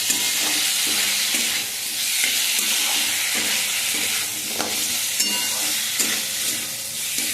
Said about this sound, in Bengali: দিয়ে ভালো করে আবার কষিয়ে নেব।